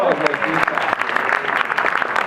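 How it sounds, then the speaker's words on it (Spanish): A classroom audience applauds at a live course session, a brief burst of clapping mixed with voices and cheering that soon thins out. "¡Aplauso!"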